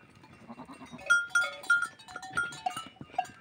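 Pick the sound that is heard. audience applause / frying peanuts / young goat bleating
young goat bleating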